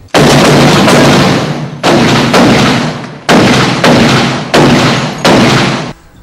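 Six loud, close gunshots boom out one after another, each a heavy blast trailing off into a short echoing decay before the next shot.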